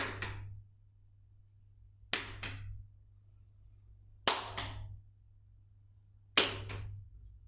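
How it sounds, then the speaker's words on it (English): Four sharp, isolated hand claps ring out in a quiet living room, each spaced about two seconds apart and followed by a faint second tap as a ball is thrown and caught, all against a low steady hum. "I throw, I clap, I catch."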